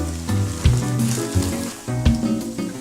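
Egg and tortillas sizzling and crackling in a hot pan, a steady close frying hiss with a few louder pops and bumps of stirring.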